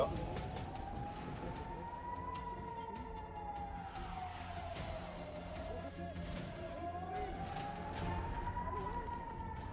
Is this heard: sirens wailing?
yes